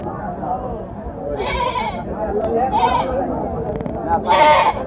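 Several loud goat bleats ring out close by at a goat and sheep market, three wavering cries over a murmur of voices and crowd noise.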